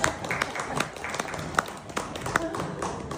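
People seated at a Ram Darbar ceremony in Ayodhya clap after a song, giving scattered, irregular hand claps with a murmur of voices beneath.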